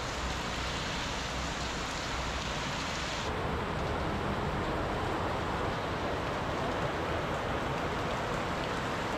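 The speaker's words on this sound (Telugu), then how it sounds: "అస్సలు హెవీ రైన్ ఈరోజు అయితే మాత్రం" Heavy rain pours steadily in Nellore district during a visit to Nelapattu Bird Sanctuary, a dense, continuous hiss that is louder and fuller after the first few seconds, with no voices.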